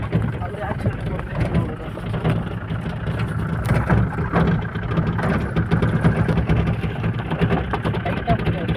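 A car engine runs during a driving lesson as a low, continuous hum beneath talking voices inside the vehicle.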